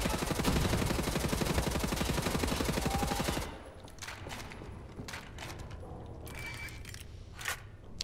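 Rapid pump-action shotgun fire in the shooter game Wolfenstein: The New Order, a dense, loud burst of repeated blasts for about three seconds, then quieter scattered in-game noises and clicks.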